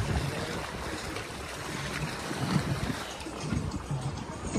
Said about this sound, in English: we're going against the waves